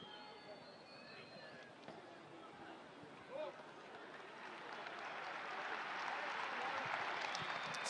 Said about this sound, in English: the fans just clapping Hernandez off